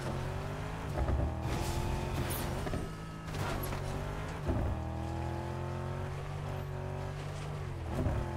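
Engines of cars driving in a video game, a continuous droning motor tone that rises and falls as gears shift and revs change, fairly quiet with no talking over it.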